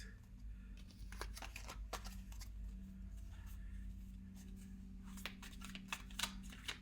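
Tarot cards shuffled by hand in a rapid run of soft riffling bursts, the flutters coming in short clusters over a steady low hum, fairly quiet and close.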